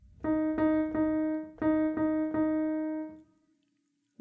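A piano taps out a simple rhythmic pattern of eighth and quarter notes, six clear repeated strikes of the same chord in two groups of three, moderately soft and alone, with a decaying tail and a faint final note.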